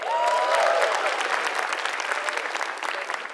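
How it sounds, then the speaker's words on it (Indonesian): A studio audience at a stand-up comedy competition applauds a comedian, with a thick, continuous burst of clapping that peaks early and then eases slightly while staying full through the end. "Beri tepuk tangan sekali lagi buat Eza"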